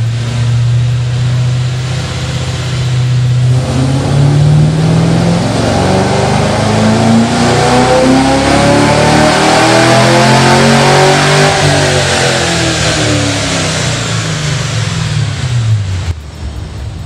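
A 2014 Chevrolet Camaro engine revs hard on a dyno, a loud continuous pull rising steadily in pitch, holding at the top, then cutting off abruptly near the end.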